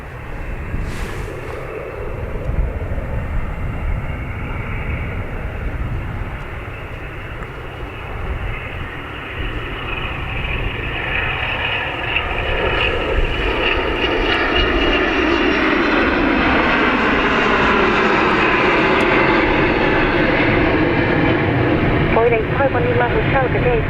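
A Flexjet business jet departs Dublin Airport on runway 28 right, its engine roar loud and steady throughout, rising in pitch, with air traffic control radio voices over it.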